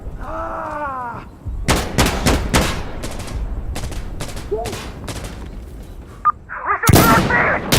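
Gunfire in a firefight at a refinery in the video game Insurgency Sandstorm, with rapid bursts of loud, close shots, scattered single cracks and a heavy blast at the end, and a voice shouting over the opening.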